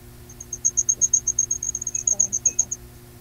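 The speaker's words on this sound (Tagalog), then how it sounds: "Yung mga kuliglig, sir, pampatulog talaga yung mga kuliglig." Steady, rapid cricket chirps pulse in a regular rhythm, close and clear, while a few soft voices murmur briefly underneath.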